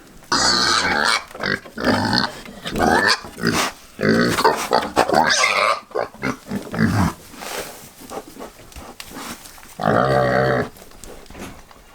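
Pigs being fed on a homestead grunt and squeal in repeated loud bursts close by, with short pauses between, and no talking over them.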